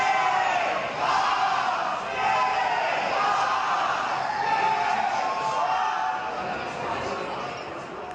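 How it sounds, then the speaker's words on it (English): Crowd of Gamecock Nation fans cheering and shouting on campus at night, a dense, steady roar of many voices with whoops rising and falling throughout, loud and continuous. "Tonight, fans were cheering on the men as they went for Gamecock glory all over campus"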